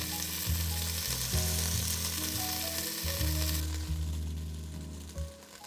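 Beef chunks brown in a Dutch oven, a loud, continuous sizzling hiss up close, with a low steady hum underneath, easing slightly toward the end with no one speaking.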